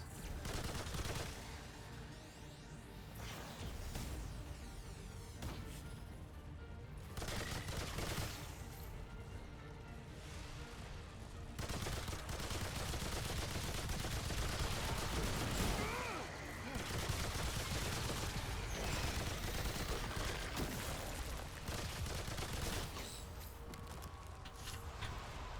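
Sustained automatic gunfire from a loud machine gun in a video game, dense and continuous at close range across the whole stretch, with brief lulls between bursts and occasional footstep-like clatter mixed in.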